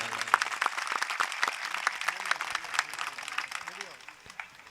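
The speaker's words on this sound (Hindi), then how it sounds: "तो आप अपने लिए ताली बजाएं।" An audience of auto rickshaw drivers applauds at their association's Diwali gathering, with steady, dense clapping carrying through and voices sounding over it before it thins slightly near the end.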